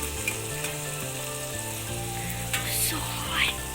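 Tomato and curry leaves sizzle in a hot pan for a fish curry, a close, steady frying crackle with a few sharper pops, set against a steady background of music.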